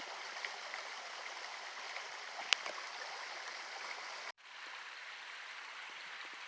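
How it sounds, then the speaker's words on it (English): A backyard creek trickles in a steady, soft broadband wash throughout, with one brief click partway and a short dip in level near the end; no voices. "to the trickling of the creek."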